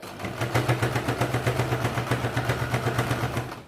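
A sewing machine stitches fabric for a market bag with a fast, even, close mechanical clatter that runs steadily throughout.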